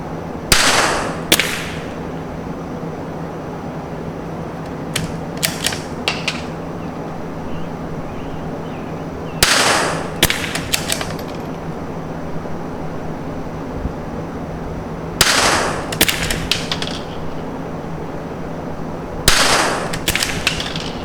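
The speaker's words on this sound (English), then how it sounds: "I'm gonna shoot your sighter shot target up top." Outdoor .22 LR target shooting with CZ and Tikka rifles: sharp, loud cracks fired in small clusters of two to four shots, spaced several seconds apart over a quiet background, with no talking.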